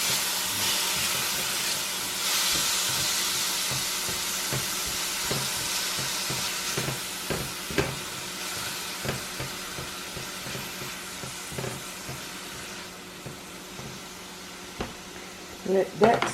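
A pan sautés ingredients for crab toast with a steady, close sizzle and hiss, with occasional clinks and stirring taps scattered throughout.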